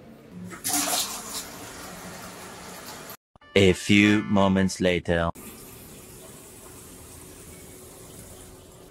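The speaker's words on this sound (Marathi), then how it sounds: "तर पहिला आपण बादली पाण्याने भरून घेऊया" A tap runs water into a bucket being filled for washing a motorbike. The rush is steady and close, with a short spoken phrase in a gap near the middle before the flow resumes.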